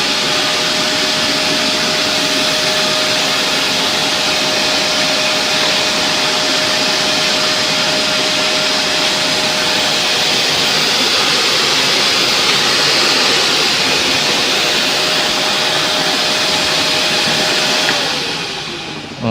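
A wet dust collector with a water filter tank vacuums dirt from a protective floor covering over ceramic tile, a loud steady broadband roar with a constant motor whine that runs unbroken for about eighteen seconds before cutting off.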